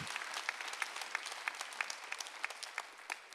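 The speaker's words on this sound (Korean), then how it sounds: "오늘 하나님의 증거한 거 믿는 사람만 박수." A church congregation applauds during a Sunday worship service, giving a faint, distant patter of many hands with regular louder claps standing out and no talk over it.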